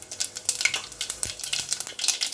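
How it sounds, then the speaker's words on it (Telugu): Mustard seeds and cumin crackle in two spoons of hot oil for a tempering, with a busy sizzle broken by quick pops and light utensil clicks, close and fairly soft. "ఆయిల్ అయితే వేడైంది. పోపు దినుసులు వేసుకున్నాం. ఆవాలు, జీలకర్ర"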